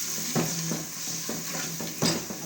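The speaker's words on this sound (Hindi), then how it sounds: "फिर इसको भूनेंगे जब तक के तेल नहीं छोड़ेगा।" Onion-and-green-chilli masala sizzles steadily in hot oil in a pan while a spoon stirs it, with repeated scraping strokes and light clinks over the constant frying hiss, close and moderately loud.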